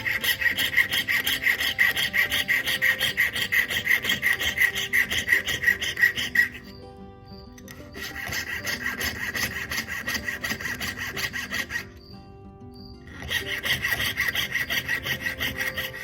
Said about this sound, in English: I'm going to raise up my blade, add a little bit of wax onto it, and keep going.